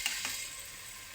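Masala frying in oil with turmeric gives a soft, steady sizzle with a couple of faint stirring taps at the start, quiet and close, with no voices.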